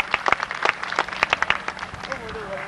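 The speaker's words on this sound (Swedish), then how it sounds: "Anders Kronvall, en applåd till dig." Scattered applause from a crowd at an outdoor car show in Norrköping, honoring a prize-winning 1955 Chevrolet Bel Air; uneven, moderate clapping lasting a couple of seconds with a voice briefly heard.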